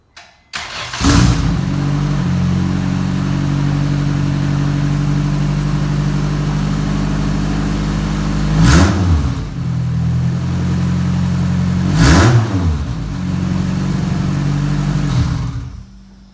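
A turbocharged DA9 Acura Integra engine fires up for its first start, cranking briefly, then holding a loud, close, steady idle with two sharp revs partway through before shutting off.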